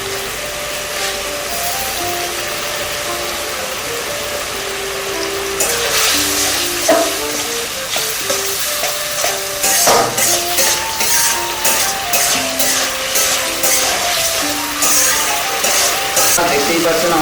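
Curry leaves hit hot masala in a pan for egg curry, setting off a loud crackling sizzle that swells midway, with stirring scrapes and background music underneath.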